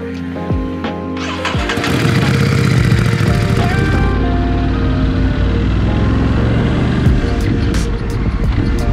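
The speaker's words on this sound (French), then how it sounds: "j'adore le son de cette moto." A motorcycle engine starts up and settles into a loud, steady rumbling idle close by, with some revving and a voice speaking over it.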